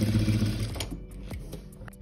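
A sewing machine runs close and loud along the edge of a welt pocket, its rapid mechanical hum steady through the first second before slowing into a few separate needle thumps.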